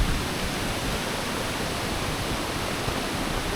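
A river below a village well rushes steadily, a broad unbroken wash of flowing water that stays even and close for the whole stretch, with no voices.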